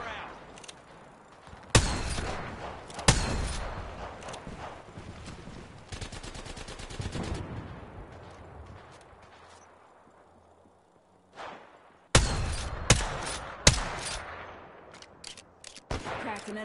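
Gunfire in a PS4 shooter video game: several loud, sharp bursts of rapid shots separated by quieter stretches of game ambience, with two clusters of fire near the start and a heavier volley toward the end.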